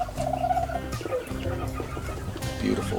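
A young game chicken, of a breed such as Shamo, Asil or Ga Noi, calls with a few short, close chirps and gobbling notes over a busy background.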